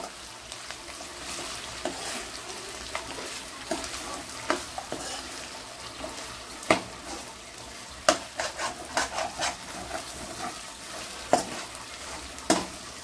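Chicken pieces fry in a pan, with a low steady sizzle under irregular bursts of a spatula scraping and clattering against the metal, some stirs coming in quick clusters.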